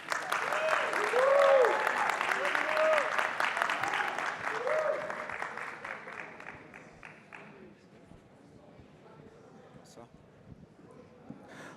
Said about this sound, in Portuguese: Peço um aplauso para ele, por favor.